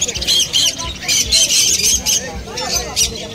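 Blue pineapple conures and other parrots at an exotic bird market give sharp, repeated squawks and chirps close by, mixed with the babble of a busy crowd and people talking.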